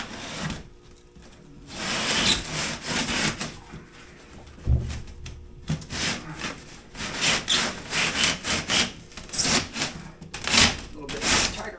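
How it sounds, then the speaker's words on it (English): A piece of quarter-inch concrete board is cut by hand with a sawing tool, giving rough, gritty rasping strokes in irregular bursts. The cutting is close and fairly loud, with a few thumps in between. "Quick little cutting there of a piece of 1/4 inch concrete board I had laying around."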